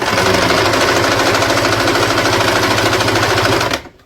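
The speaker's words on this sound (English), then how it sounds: "I am using my Janome heavy duty machine" A Janome heavy-duty sewing machine runs at speed with a loud, rapid, steady mechanical rattle close by, then stops abruptly near the end.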